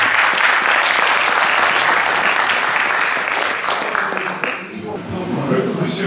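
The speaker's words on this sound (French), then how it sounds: "On peut l'applaudir" Audience applause for Laetitia at a talk about a tree and a chapel in Saint-Jammes de Besaucelle, a dense, steady clapping from a roomful of people that tapers near the end as voices come through.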